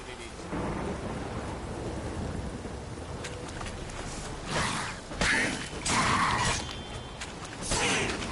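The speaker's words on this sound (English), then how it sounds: "This downpour's a bastard, it is." A heavy rain downpour with thunder in The Witcher 3. Rain hisses steadily throughout while several loud thunder rumbles and cracks break in near the end.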